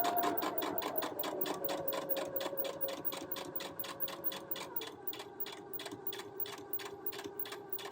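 A sewing machine with a zipper foot stitching along a boned edge of fabric, a rapid, even mechanical rattle of needle strokes, close and steady, slowing slightly near the end.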